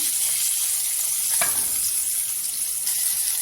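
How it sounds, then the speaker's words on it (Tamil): Mustard seeds, asafoetida and raw mango hit hot oil in a pan, giving a steady, close hiss of frying with a brief crackle partway through. "எண்ணெய் காஞ்சினும் கடுகு சேர்த்துக்குங்க கொஞ்சமாக பெருங்காயத்தூள் மாங்காய் சேர்த்துக்குங்க"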